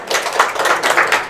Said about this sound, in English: That clap. The golf clap.